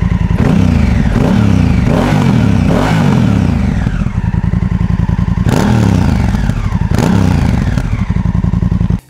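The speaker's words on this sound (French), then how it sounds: "la sonorité moteur du bicylindre, elle est vraiment top" The 2018 Honda Africa Twin Adventure Sports DCT twin-cylinder engine with its stock Euro 4 exhaust runs loud and close, a steady throbbing rumble that rises and falls through repeated revs and gear changes, with no talk.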